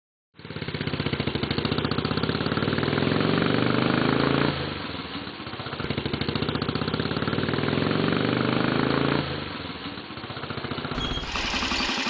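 A Honda motorcycle engine with a stalling fault runs loud and close in a steady rapid putter. It falters twice with brief drops in level, then the sound changes abruptly at the very end.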